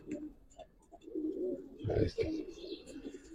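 Domestic pigeons kept for sale, a 2022 bird among them, give low, throaty coos in short repeated bursts close by, with a faint voice in the background.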